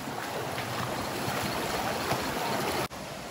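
River water rushing steadily over rocks, a dense broadband flow heard up close while walking upstream through the river on an offroad waterfall trip, continuous with a brief break near the end.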